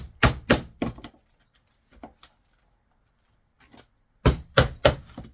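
Roofing tacks hammered through roofing felt on a wooden nest box roof, two close bursts of three sharp hammer blows each, separated by a quiet pause with a few faint taps.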